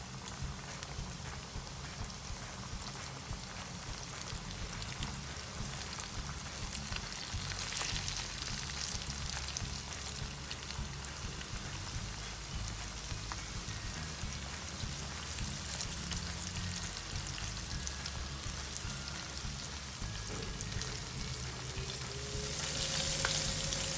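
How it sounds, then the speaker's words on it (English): Continuous crackling sizzle of chicken wings deep frying in hot oil in a large frying pan, close and steady throughout with no talking. "Heat up a considerable amount of oil in a large frying pan, and we are ready to deep fry"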